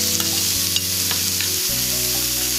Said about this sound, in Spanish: Y vamos a revolver.